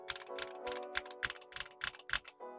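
Typing on a Royal Kludge S98 gasket-mount mechanical keyboard, a close, clean run of evenly spaced clacky keystrokes, each sharp and uniform in tone, heard alone.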